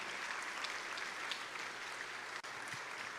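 Steady applause from a church service congregation fills the space, a dense, continuous patter of many hands clapping at an even level.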